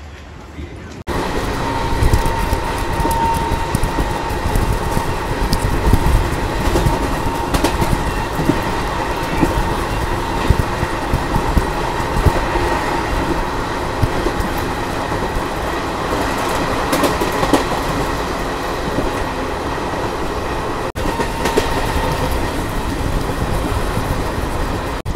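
Inside the Kanpur–Kathgodam Garib Rath as it runs near Rudrapur, the coach carries a loud steady rumble with rhythmic clickety-clack of the wheels and rattling throughout, while faint voices murmur beneath.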